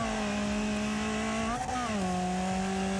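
Small high-revving inline four-cylinder car engine in the racing game Wreckfest, a steady loud buzzing drone that dips in pitch briefly as it shifts, then holds at a lower, even rev.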